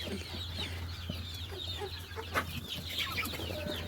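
Several chickens, including Fayoumi and spotted native hens and roosters, cluck and chatter continuously nearby over a steady low hum, with short overlapping calls and no speech.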